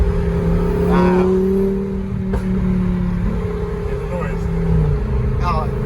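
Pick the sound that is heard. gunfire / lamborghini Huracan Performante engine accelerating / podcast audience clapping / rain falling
lamborghini Huracan Performante engine accelerating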